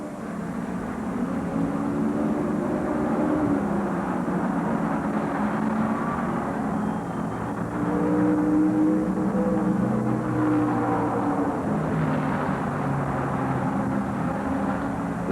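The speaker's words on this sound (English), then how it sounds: "Johncock in car 24 leads them out of the 4th turn for the green flag, and this race is once again underway" 1972 USAC championship race cars at Michigan International Speedway, a steady, continuous engine roar holding at a constant level for the whole stretch, with a slight swell as cars pass nearer.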